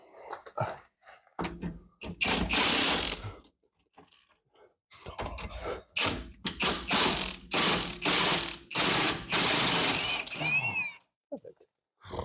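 A socket wrench ratchets on a rusted bolt during a lift kit installation on a Volkswagen Polo Dune, loud clattering bursts up close alternating with short silences, with people talking briefly.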